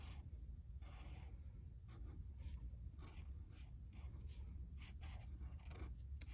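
A pen or marker writes the word happy by hand on paper, a steady run of soft scratching strokes with short pauses between letters, close and fairly quiet, over a low background hum.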